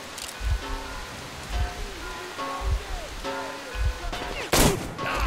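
Gunfire in the video game Metro Exodus: a loud, sharp blast near the end stands out over a steady run of low rhythmic thuds and tonal game sounds.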